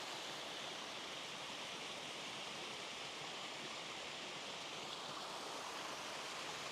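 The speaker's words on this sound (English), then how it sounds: "So here's that waterfall just a little bit closer up." A waterfall near Twin Falls, Idaho pours down into a canyon toward the river, producing a steady, even rush of falling water, faint and distant, with no other sounds.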